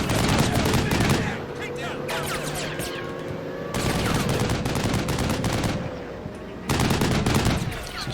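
Gunfire in the video game Combat Mission Shock Force 2, dense bursts of rapid machine-gun and rifle shots in loud clusters separated by brief lulls, with a voice talking faintly beneath.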